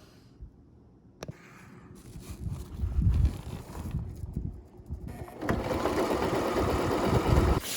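Sewing machine stitching the edge of a vinyl rooftop tent cover, starting quietly then running in bursts of rapid mechanical chatter that builds into a loud continuous run near the end.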